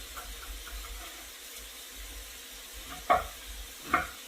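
Bacon and diced onions frying in a pot, a soft steady sizzle running low and even beneath two brief sharper scrapes of stirring near the end, with no talking.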